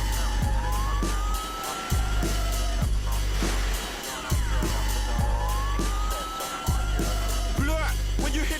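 Wailing police-style siren sweeps rise and fall repeatedly over a heavy, steady drum beat, with a voice mixed in.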